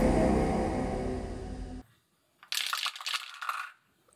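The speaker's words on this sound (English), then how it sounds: "Let's feed the dice to Cthulhu and roll for sanity." Dice are rolled for a tabletop role-playing game's character creation, a close burst of clattering tumbles and taps on a hard surface after a loud musical passage cuts off and a brief pause.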